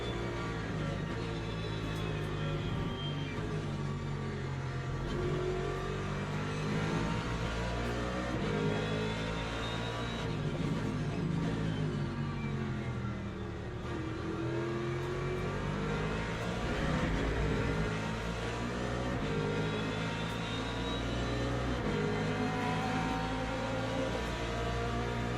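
Race car engines drone steadily on the Imola circuit in a simulated endurance race, an LMP2 prototype closing from behind as overlapping engine notes rise and fall through shifts, loud and continuous throughout.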